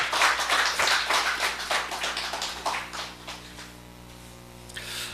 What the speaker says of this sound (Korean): 박수로 환영해 주시길 바라겠습니다.